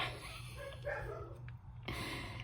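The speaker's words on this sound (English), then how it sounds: "Okay, sorry, dogs are barking." Dogs bark indoors in a few short, fairly faint bursts against a quiet room background, with brief pauses between them.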